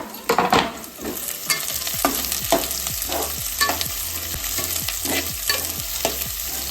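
Onion frying in a pan with steady sizzling and repeated, rhythmic stirring scrapes, close and fairly loud, with no talking.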